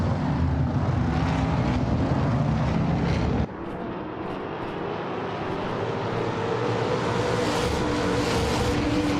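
Race cars including a 2021 Ford Mustang roar around the Cleveland Grand Prix circuit in a racing game, a loud continuous engine drone that drops abruptly, then climbs steadily in pitch with no voices.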